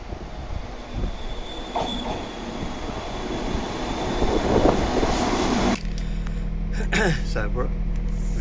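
Onboard rumble of a 35-year-old LNER InterCity 225 train on a UK line, heard as a steady broad roar with wheel squeals and clicking track joints, shifting to a quieter hum with squeaks partway through.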